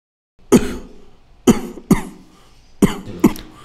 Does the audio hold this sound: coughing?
yes